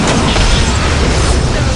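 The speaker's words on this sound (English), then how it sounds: "On my command, fire the Titan cannon." A loud, sustained roar of a Titan cannon firing in the video game Warhammer 40,000: Dark Crusade, with dense rumbling low end and a mechanical edge, booming without pause.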